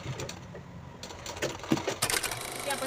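Sewing machine lock-stitching a handbag, quiet mechanical clatter in short uneven bursts, fairly close.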